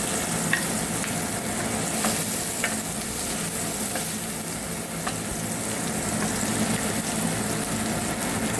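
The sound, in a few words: sautéing onion and garlic for seafood pasta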